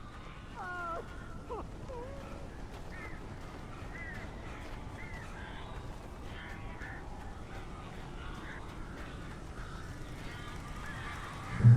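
Strange birds honk inside a cabin in the video game Alan Wake Remastered, several scattered honking calls against a constant dull background rumble, ending with a brief louder burst.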